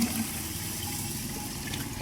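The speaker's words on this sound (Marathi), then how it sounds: "आता एक भरणभर पाणी टाकून घेतो।" Water gushes steadily into a pot of wheat grains, a continuous broadband pouring rush that stays even throughout at moderate loudness.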